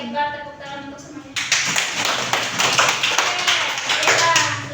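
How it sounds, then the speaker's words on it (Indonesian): Classroom applause breaks out after a voice, a dense burst of many hands clapping at once, loud and sustained for several seconds with a few children's voices mixed in. "Tepuk tangan untuk semuanya."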